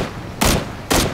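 Two loud, close gunshots in a video game, sharp broadband blasts about half a second apart with brief decaying tails and low background noise between them.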